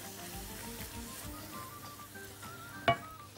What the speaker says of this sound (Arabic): بصلة اهي ابتدت تتحمر، احط عليها رشة ملح